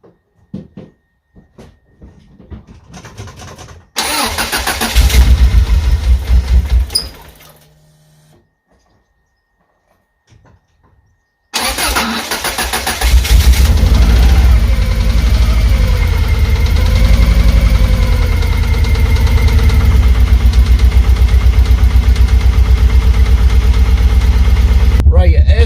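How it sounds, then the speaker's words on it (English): A Subaru Impreza WRX with a freshly installed intake manifold cranks in short bursts, then catches and settles into a loud, rough, uneven idle with pulsing rumble, close by, after an earlier start attempt and a quiet pause. "Running, but it's running pretty rough if I'm honest. I think it's running off a cylinder."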